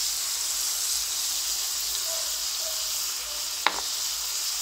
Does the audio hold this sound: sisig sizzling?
yes